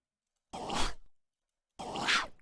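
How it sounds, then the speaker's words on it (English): Spitter creature's spitting attack in The Explorer: 3D Game Kit, two loud wet bursts of hissing spray, each about half a second long and separated by a second of silence, close and harsh. "where it like spits at you, and yeah, that's how he attacks."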